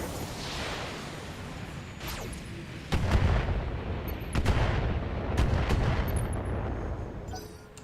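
Inferno LRM missiles fire in BattleTech as a loud barrage of repeated booming launches and impacts, several sharp cracks spaced over several seconds against a rumbling battle backdrop.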